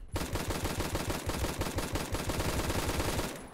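Rapid automatic gunfire from the first-person shooter Phantom Forces, a dense unbroken burst of shots at a steady fast rhythm, loud and close, running nearly the whole time with no talk.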